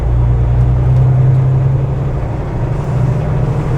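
Kenworth T680 truck with auto shift transmission pulling in 3rd gear with a trailer behind, a steady loud low diesel drone holding constant throughout, no talk.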